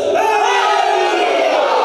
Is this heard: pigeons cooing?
no